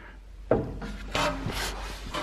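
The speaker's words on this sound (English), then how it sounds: "Use my coilover wrenches. Gotta loosen this guy up right here." A coilover wrench working a car's coilover lock ring loose, a few close scraping, grinding rubs of metal on metal in short strokes, with no one talking.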